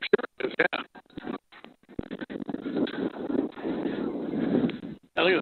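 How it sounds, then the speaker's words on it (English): Strong wind buffeting a microphone outdoors at a high school football game between Metamora and Canton, coming in rough, uneven gusts and rumbles with short breaks, loud and close. "It is really windy out here."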